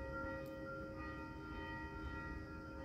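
Church bell ringing with a steady sustained metallic tone, its overtones lingering over a low rumbling background, fairly faint and with no voices.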